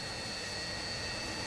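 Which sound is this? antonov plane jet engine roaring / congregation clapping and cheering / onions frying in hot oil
antonov plane jet engine roaring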